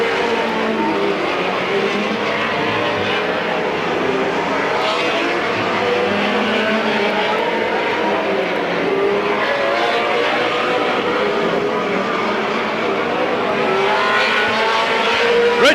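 Race cars circling Midvale Speedway at a 1995 fall oval race, a dense continuous engine roar from a packed field with layered passing cars and faint tire noise, no talk over it.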